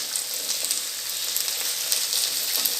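Chopped onion goes into a pan of frying capsicum and potatoes, which sizzle with a steady, bright crackle. It stays close and continuous, with faint stirring taps.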